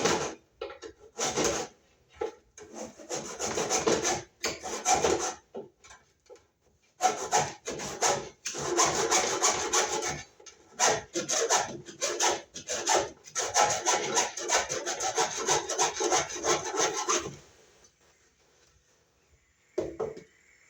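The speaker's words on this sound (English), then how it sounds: "we'll take our hacksaw and we'll cut our cable" A hacksaw cuts through metal-clad MC cable in close, rapid back-and-forth rasping strokes, loud in bursts broken by short pauses, stopping near the end.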